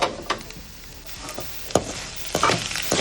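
Cumin seeds and urad dal spluttering in hot oil for a coconut-free pumpkin mor kuzhambu, a soft continuous sizzle broken by sharp popping crackles at irregular intervals.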